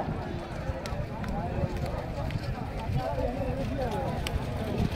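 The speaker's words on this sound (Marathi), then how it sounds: "बघा कशी बैल पळतायत" Country bulls pound past in a district-level bullock cart race, a rapid drumming of hooves and rattling carts, with an excited voice talking over the commotion.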